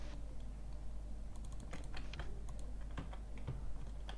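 Computer keyboard typing during a first-person game session: scattered quick key clicks, fairly faint over a low steady hum, with no talk.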